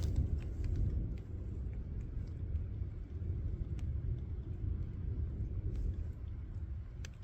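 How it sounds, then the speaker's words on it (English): Thunder on a Montana mountain during a spring bear hunt, rolling as a low, continuous rumble that stays fairly faint and distant throughout. "This thunder's crazy."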